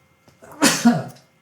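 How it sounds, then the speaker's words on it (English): A single sharp sneeze bursts out from a man partway through a spoken astrology lesson, a quick intake followed by a loud, breathy explosive release, close to the microphone, with no talk during it. "excuse me, I was going to sneeze."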